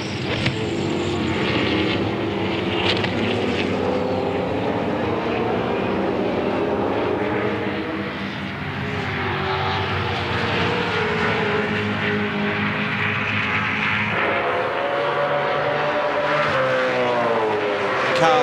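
2007 V8 Supercars race cars at speed at Phillip Island for the season finale race, a continuous loud engine roar with rising and falling pitch as the pack runs close together.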